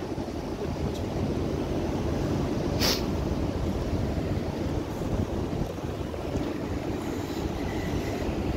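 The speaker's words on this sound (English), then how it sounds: "Sorry about the wind, guys." Strong wind buffets a microphone outdoors at an abandoned pottery centre, a loud continuous rumbling roar with one brief sharper gust or knock partway through, no talking.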